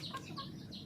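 Free-range village chickens cluck in short, close bursts as they are fed, several birds calling over one another.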